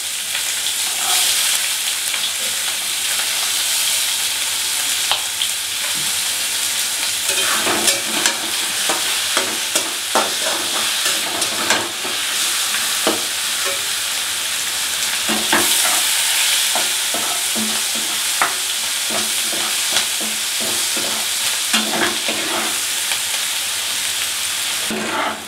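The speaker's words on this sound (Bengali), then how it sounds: "দেখো রসুন পেঁয়াজগুলো ভাজা ভাজা হয়ে গেছে" Chopped onion and garlic frying in leftover potato-frying oil, a loud continuous sizzle broken by repeated scraping stirs of a spatula in the pan, no speech.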